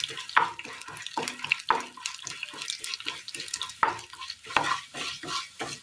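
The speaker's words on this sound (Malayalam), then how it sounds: "ഈ എണ്ണയിലേക്ക് നമുക്ക് പരിപ്പിട്ട് കൊടുക്കാം." Lentils (dal) tossed into hot oil in a pan for a Kerala curry, giving a soft sizzle broken by repeated scraping and stirring clatters, close by with no voices.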